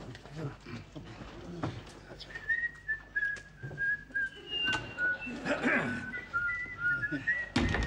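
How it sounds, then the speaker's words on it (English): A man whistles a wavering tune, quiet and fairly close, in a comedy scene. Talking and shuffling noises sit underneath, and brief laughs or exclamations break through. "Pike and I having a nice little whistle."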